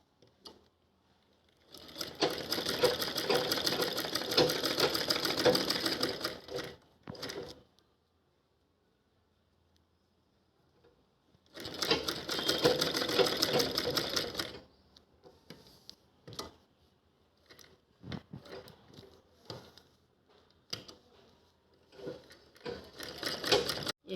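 A sewing machine stitches a shopping bag onto a table cloth, whirring in two steady bursts of several seconds each, separated by a quiet pause and followed by scattered light clicks and handling noises.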